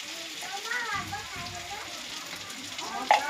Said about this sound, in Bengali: আর এই মশলা দিয়ে কষাবো